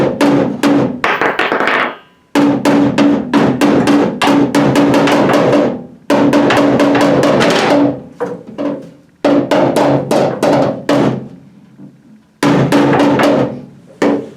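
Rapid, steady metallic tapping from a hammer on the sheet metal of a C10 truck door and fender in several long runs, each series of quick ringing strikes separated by short pauses.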